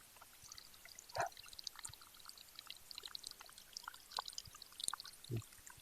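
Water drains out of an ornamental fish aquarium tub in a faint, steady trickle and pour, with occasional small splashes and drips standing out against the quiet background.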